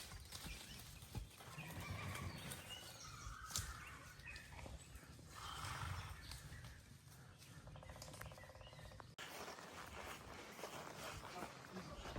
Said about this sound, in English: Nice horses you have here.